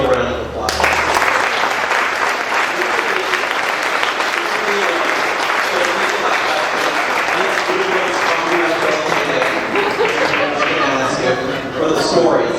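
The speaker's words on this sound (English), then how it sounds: "I want everyone to give a round of applause." Sustained, loud applause from an audience at a science fiction literary salon, a dense wash of many hands clapping that holds steady for over ten seconds before tapering at the end.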